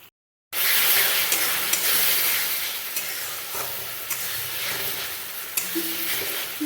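A spice paste of garlic, ginger, tomato and green chilli sizzles steadily in hot oil, with occasional scraping stirs and small pops over the constant hiss.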